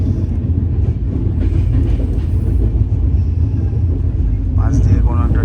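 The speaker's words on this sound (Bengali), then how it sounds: "পাশ দিয়ে কোনো একটা ট্রেন যাচ্ছে" A passing train rumbles steadily and loudly alongside a moving Howrah–Guwahati Saraighat Express, a continuous low roar with faint clatter lasting throughout.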